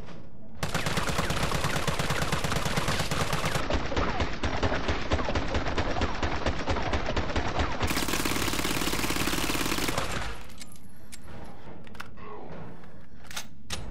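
Sustained full-auto bursts from the CQBR assault rifle in Resident Evil 3 Remake, loud and dense for about nine seconds of continuous rapid fire, then cutting off into a quieter tail with faint scattered sounds.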